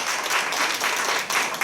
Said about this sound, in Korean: 우리 박수로 한번 격려해 주시기 바랍니다.